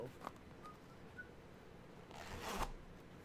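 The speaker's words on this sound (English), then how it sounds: "the gag is you pull the zipper like so" A quick zipper pull on a foam costume rasps faintly up close near the end, after some soft rustling in a quiet room.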